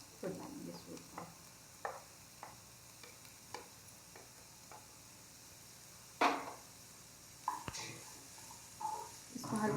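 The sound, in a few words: capsicum frying and being stirred in a pan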